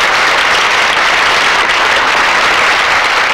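An audience applauds to welcome a speaker at a talk on Soviet views of nuclear weapons control, a loud, steady wash of clapping hands with no voices on top.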